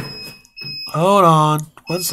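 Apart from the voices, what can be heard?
fire alarm going off for maintenance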